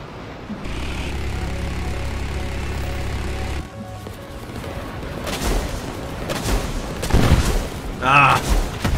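An A-7D Corsair II strafing with its guns in War Thunder ground battle: a steady engine drone gives way to rapid bursts of gunfire and booming impacts, loud and close, with a voice talking over it.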